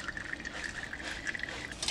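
Melted beeswax pours into a container indoors, a faint, steady liquid trickle with small drips and no talking.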